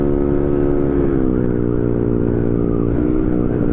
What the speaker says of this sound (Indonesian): Asma Kudus ternyata masih barbar pakai NMAX euy